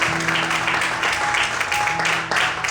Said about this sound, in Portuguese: Quantos podem aplaudir e exaltar ao Senhor na manhã de hoje?